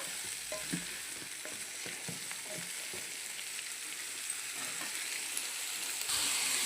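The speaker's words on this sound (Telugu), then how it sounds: "ఇవి కూడా ఫ్రై చేసేసుకొని మనకి ఆలు అనేది బాగా మగ్గాలి కదా" Potatoes fry in a pan with a steady, soft sizzle and occasional light stirring scrapes, close and continuous with no talking.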